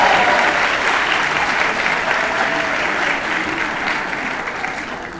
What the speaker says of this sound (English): I got thrown off by all the applause from you.